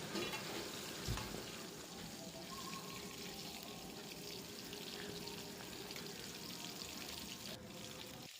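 Pointed gourd pieces fry in oil with a faint, steady sizzle, with scattered scraping as they are stirred in the pan and a brief knock near the start.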